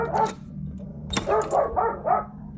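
A dog barks a few times at night outside a house with a yard gate, the yips and barks mid-distance and spaced, with people talking quietly in between.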